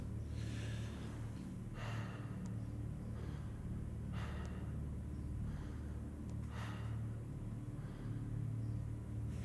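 A patient takes slow, deep breaths during a doctor's examination with a stethoscope, four long airy inhalations spaced about two seconds apart over a steady low background hum, close and without speech.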